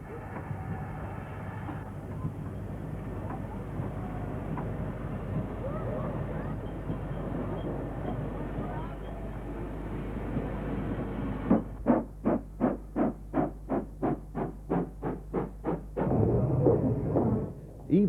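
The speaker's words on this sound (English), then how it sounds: "Manor number 7821, Ditcheat Manor, typifies the era as it works this local train." GWR Manor class steam locomotive 7821 Ditcheat Manor works a local train in 1950s–60s British steam days: a steady rumble gives way to a run of sharp, evenly spaced exhaust beats, then a louder rushing burst.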